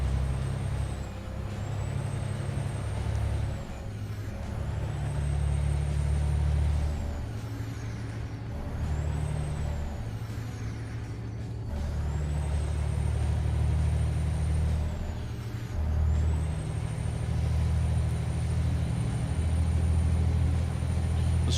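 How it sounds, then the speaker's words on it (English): Simulated heavy truck in American Truck Simulator, its deep steady engine rumble running throughout with several sharp hissing air-brake releases and a high descending whine recurring at intervals, loud and close with no talking. "This truck is definitely very loud in my ears, for sure."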